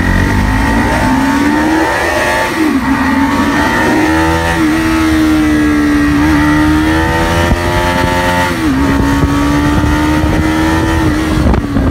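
A Bajaj NS200 motorcycle fitted with an NGK iridium spark plug is ridden hard in a performance test. The engine drones loud and close, pitch climbing and dropping through gear changes, with constant wind rush and no talking.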